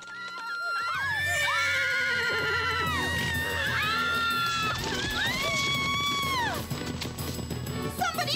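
Several horses whinny and neigh loudly and repeatedly over a continuous rumble of running hooves, close and dense, with the calls overlapping for most of the stretch before easing near the end.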